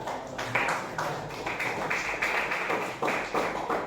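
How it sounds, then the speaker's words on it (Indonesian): A small group claps for a classmate during a teacher-training class session, producing uneven, fairly quiet clusters of claps with brief gaps rather than full applause. "Tepuk tangan buat teman kita."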